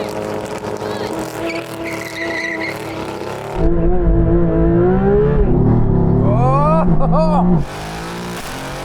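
Porsche naturally aspirated flat-six and V8 race cars roar past with rising and falling engine whine and tire squeal, loud and close, with a brief shout from someone nearby.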